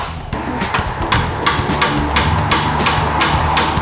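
Sharp metallic hammer taps ring out about twice a second against a stuck carburetor jet on a 1967 Jeepster, loud and close over a low background rumble.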